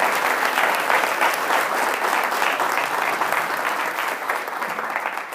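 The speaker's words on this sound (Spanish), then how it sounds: "damos un fuerte aplauso a todos aquellos que nos escuchan por el internet" A church congregation gives a strong, sustained round of applause that stays dense and even throughout, easing slightly at the end.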